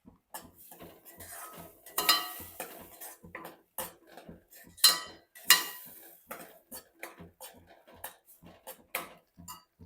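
A spoon stirs blended moong soup with salt and turmeric in a metal pot, making a rhythmic series of close clinks and scrapes against the sides with no one talking.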